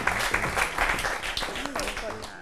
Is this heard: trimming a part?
no